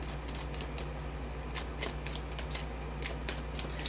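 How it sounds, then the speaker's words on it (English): Tarot cards are side-shuffled by hand, giving a quick run of soft, papery flicks and riffles over a steady low background hum, with no one talking. "then I side shuffle just like this, and I wait for a card to fall out"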